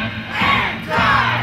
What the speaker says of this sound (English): They lock arms while shouting obscenities at a giant projection screen.